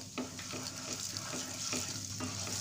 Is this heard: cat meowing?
no